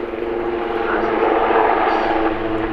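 A Royal Navy Wildcat helicopter flies a display at the RAF Cosford Air Show 2024, its engine and rotor making a loud, steady roar that swells slightly midway and holds throughout.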